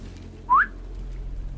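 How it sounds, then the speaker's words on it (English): A single short rising whistle in Sniper Elite 5, used to lure enemies, sounds once, clear and fairly loud, over a low steady game ambience. "If I hold Q, choose the whistle"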